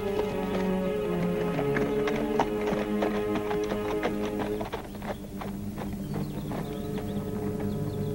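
A mare's hooves clip-clop in a run of quick, crisp taps over a sustained musical background, steady through most of the stretch and easing slightly toward the end.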